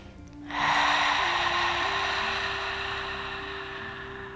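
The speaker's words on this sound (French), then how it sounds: "on va commencer à faire un bruit avec la respiration qui ressemble à des vagues de l'océan" Slow, steady yoga breathing through a constricted throat makes a soft, sustained ocean-like rush, close and continuous for several seconds over a faint background hum.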